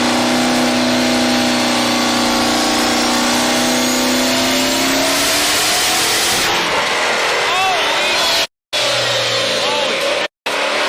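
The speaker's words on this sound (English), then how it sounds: "A racing car was carefully being loaded onto a tow truck," A racing car's engine revs loudly while the car is loaded onto a tow truck. The revs rise and fall in waves with a couple of brief dropouts, and people talk over the engine.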